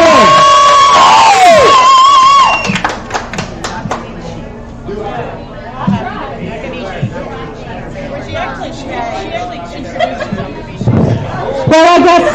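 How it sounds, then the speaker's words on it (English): Audience at a stand-up comedy show in a bar venue breaks into loud cheering and whoops at first, then settles into a steady crowd murmur with scattered shouts and clapping through the rest. "Clap your hands."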